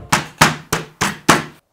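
A hammer cracks hard seed shells for a homemade herbal shampoo, giving five sharp, evenly spaced thuds. Each impact is close and loud, rings out briefly, and no one speaks.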